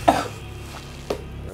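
Two short, separate coughs about a second apart, fairly close and moderately loud over a quiet background.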